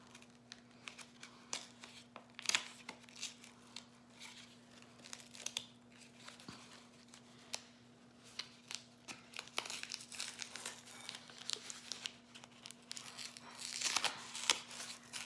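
Pokémon Silver Tempest booster pack wrapper being torn open and crinkled up close, a quiet, steady run of scattered crackles and rustles building near the end, with no talk.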